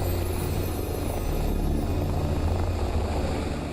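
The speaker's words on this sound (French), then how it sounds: "L'hélicoptère repart pour l'hôpital." A rescue helicopter on a mountain takes off with a loud, steady rotor and engine roar that fills the whole stretch at close range, with no voices.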